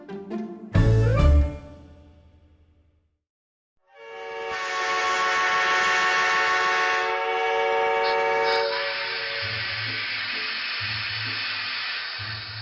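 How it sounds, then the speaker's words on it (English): Train whistle sound effect: a sustained, loud, harmonically rich blast that rises in after a sharp burst and a brief silence, holds steady for several seconds, then shifts into a second tone with low rumbling underneath. "The sound of the train's whistle pulled Long Jump out of his slumber"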